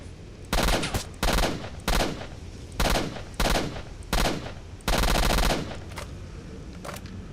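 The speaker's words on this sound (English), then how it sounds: "Who's shooting at me?" Gunfire in the video game Stalker: Shadow of Chernobyl, loud bursts of automatic fire in about six distinct volleys of roughly half a second each, close and dominant, with no talking over them.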